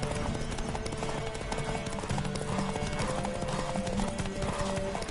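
Hooves of a horse gallop in a steady, rapid clip-clop rhythm in The Witcher, close and continuous under a layer of game music and ambience, with occasional faint snorts.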